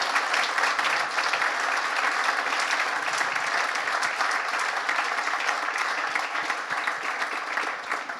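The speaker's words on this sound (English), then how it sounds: "May we have, please, a round of applause for Chris Draper, Ben Ainsley, and Sir Russell Coutts." An audience at a SailGP sailing event applauds loudly and continuously for the sailors being introduced, a dense, even roar of clapping from start to finish.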